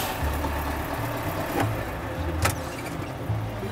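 A Scania truck, either an LBS 140 or an S 73, idles with a steady low diesel rumble that holds constant throughout, with a couple of brief faint clicks and squeaks on top.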